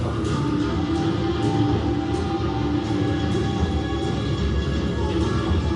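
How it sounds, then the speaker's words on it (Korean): A train rumbles steadily and loudly without a break, a heavy continuous mechanical roar with no voices over it. "기차는 달려오고 있습니다"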